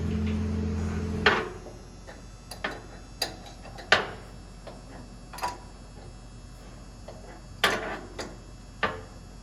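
Sharp clicks and knocks of a sawmill conveyor belt being tightened, about a dozen irregular metallic ticks and taps spaced over several seconds, close and fairly quiet, no talking.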